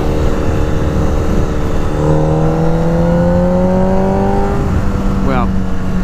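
A motorcycle engine, held in top gear, climbs steadily in pitch as it accelerates hard under a constant blast of wind noise, loud and close throughout, ending with a quick rev flutter.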